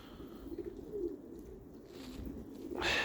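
Pigeons coo softly inside a loft where the birds have lived for ten years, low murmuring calls repeating near and far over a steady hum of the enclosure, with a brighter rustle or flutter rising at the end.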